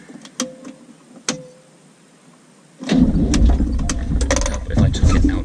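A Land Rover 101 engine cranks and catches at about three seconds, then settles into a loud, steady idle with mechanical clatter. Faint knocks and clicks come before it starts.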